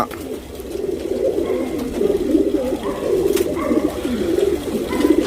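Tournament racing pigeons in Bangalore coo repeatedly in deep, throaty, overlapping bursts, close and fairly loud, with no talk.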